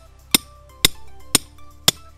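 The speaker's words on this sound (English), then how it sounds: "So I'm gonna hammer this down probably to about halfway." Four sharp, evenly spaced hammer blows ring out as a post for a sun shade sail is driven into the ground, each strike a crisp metallic clank with brief decay, close and clear with no talking.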